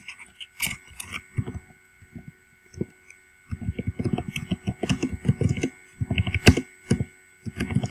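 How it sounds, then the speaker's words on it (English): Computer keyboard typing during a Sims 4 play session: irregular bursts of quick clicking keystrokes, close and fairly loud, with short pauses between flurries. "sorry for the typing noises as well."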